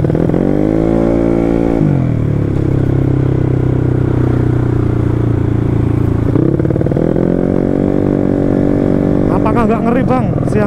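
A Yamaha Mio motorcycle tuned to 200cc and 25 HP roars loud and close while being ridden, its engine note climbing and dropping through gear changes, with wind rush and rattling over the top.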